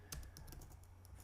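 Fast, light keystrokes on a computer keyboard, heard close and alone, clatter in a quick run of clicks over a steady low hum while a Python command is entered.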